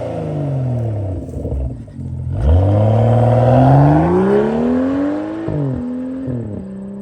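BMW 335i with the N55 engine and a resonator-delete exhaust, revving up in rising and falling sweeps with a deep, loud, close exhaust note and no talk.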